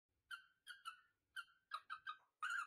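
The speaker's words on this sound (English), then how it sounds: "Here is a recording of the parrot singing see that." A parrot's singing plays back from a recording: a series of short, bright whistled calls in uneven bursts, some clustered closely, clear against near silence, with no voices.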